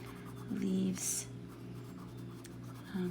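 Colored pencil scratching across paper in small circular strokes, a soft continuous scribbling texture close up, with a brief sharper scrape partway through.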